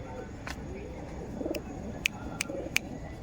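Madras pigeons in a loft, soft low cooing from close by over a murmuring background, with a few sharp clicks and chirps scattered through.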